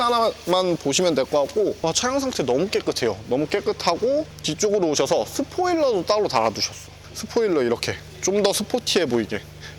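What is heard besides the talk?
No distinct noise like a dog, phone or traffic.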